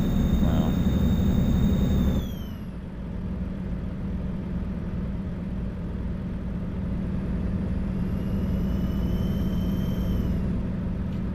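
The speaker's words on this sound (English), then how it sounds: "engine does have a nice turbo sound, but I just don't like how there's this underlying, unchanging, rumbly sound" Truck engine in American Truck Simulator with a turbo whine over a steady, unchanging low rumble, loud and continuous; a brief higher whistle fades early, then the drone holds alone.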